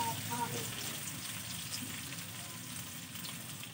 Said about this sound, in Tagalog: Prituin muna natin yung ating fish balls.